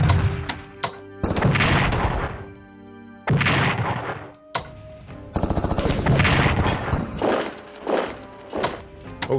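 Artillery fire in a WW2 Pacific-theatre strategy war game, heard as several loud, heavy booming bursts with short quiet gaps between them and no talk.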